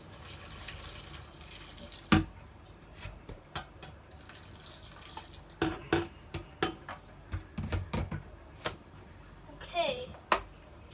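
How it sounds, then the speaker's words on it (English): Hot water is poured over blueberries in a kitchen sink or bowl to strip their wax, a running, splashing trickle broken by sharp knocks and clatters, heard close under a voice. "pour it onto the blueberries to take out the wax"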